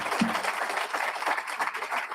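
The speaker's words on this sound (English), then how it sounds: "Can we give them a gigantic round of applause?" A graduation audience at a HOPE For Prisoners ceremony claps together, a fairly soft, even wash of many hands heard from a distance.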